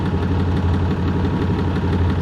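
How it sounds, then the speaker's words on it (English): A Minneapolis Moline G950 tractor engine idles steadily and loudly through a straight pipe with a throaty, pulsing low rumble, unmuffled and close, running continuously without other sounds. "obviously sounds good just running out of that straight pipe"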